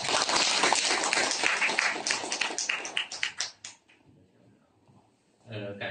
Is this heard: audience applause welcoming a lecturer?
yes